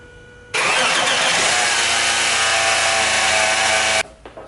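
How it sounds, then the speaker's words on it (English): A car's JDM Subaru EZ30R flat-six engine cranks and fires up for its first start, then runs loudly and steadily for a few seconds before cutting off abruptly. "So here's the first start on the JDM engine."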